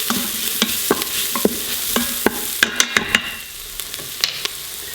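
Spices scraped and stirred in an Instant Pot, with repeated sharp utensil scrapes and taps over a steady low sizzle, close and fairly loud, no talking.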